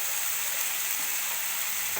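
Cumin, coriander and chicken masala spices fry over a lowered flame in a pan for a chicken and ridge gourd curry, giving a steady, close hiss of sizzling with no talk.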